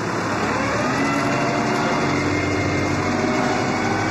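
MTZ-82.1 tractor engine running steadily while driving and scraping a yard, a continuous loud close drone with no pauses and no talk.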